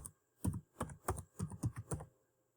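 Keystrokes on a computer keyboard while filling in an education entry on a LinkedIn profile, about eight soft taps in a quick uneven run, close and quiet with no talking.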